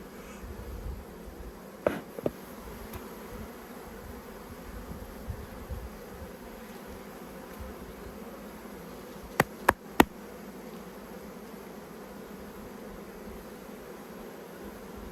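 Honey bees buzzing around hive boxes at a backyard apiary, a faint steady drone carrying through the whole stretch, with a few sharp clicks and knocks of handling partway through.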